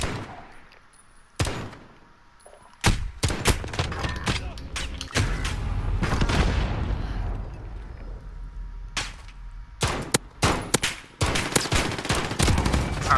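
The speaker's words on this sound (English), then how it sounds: "Shooting around you, yeah." Bursts of video game gunfire in a hide-and-seek match, with scattered single shots and rapid volleys coming near and loud over a busy game backdrop, and brief voices now and then.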